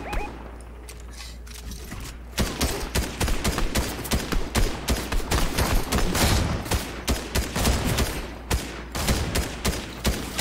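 Rapid gunfire from a Fortnite match crackles in dense bursts, close and loud, with repeated shots and short volleys running almost continuously and no voices over them.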